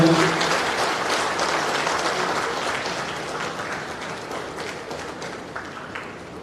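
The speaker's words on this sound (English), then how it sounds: "A big round of applause, ladies and gentlemen." Dense audience applause at a durbar hall inauguration in Goa, loud at first and gradually fading over several seconds, with no voices on top.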